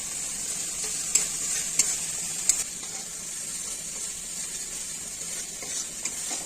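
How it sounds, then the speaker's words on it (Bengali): A steady sizzle of spice paste frying in a hot pan, with a few sharp scrapes of stirring and no talking. "মশলাটা ভাজা হচ্ছে এখন"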